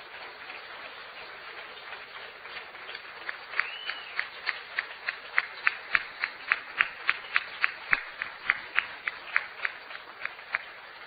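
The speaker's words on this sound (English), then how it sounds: "giving a rousing round of applause to Governor Scott Walker" Faint crowd applause at a political speech in Milwaukee, Wisconsin, builds into rhythmic, evenly spaced clapping, heard from a distance.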